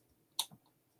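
A static detector gives a single sharp click followed by a softer second tick, brief and close against a quiet background.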